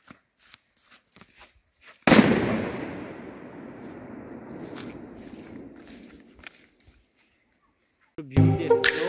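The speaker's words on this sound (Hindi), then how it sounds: "तो मुझे अभी पटाखा करना है यहाँ पे" A single loud firecracker bang bursts outdoors in a Garhwal hill forest and echoes away over several seconds, preceded by faint scuffling and followed by a short rustle.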